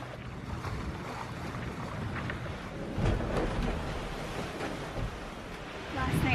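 A sailboat under sail on the open Pacific Ocean, with steady broadband wind rush buffeting the microphone and water washing along the hull, swelling slightly louder around the midpoint and again near the end.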